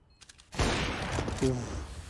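Gunfire in Counter-Strike: Global Offensive during a G2 vs Singularity WESG match, a loud burst of shots after faint clicks, under excited caster commentary.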